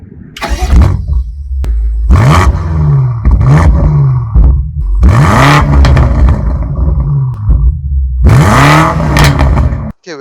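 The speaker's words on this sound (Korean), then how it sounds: "배기 같은 경우는 이제 바로 들려드릴 건데" BMW M5 Competition with twin exhaust mufflers, its engine revved repeatedly in loud, close bursts that rise and fall back to a deep idle between blips.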